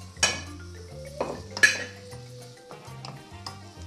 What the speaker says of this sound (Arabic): بون الدجاج راه بدا يتقلى مع البصل